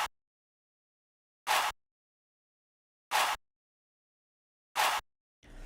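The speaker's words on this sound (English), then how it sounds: "And then I added the classic like breath vox." A breathy vocal sample in a hard melodic trap beat hits three times at even intervals, each a short airy burst of about a quarter second, standing alone in silence before another sound begins at the end.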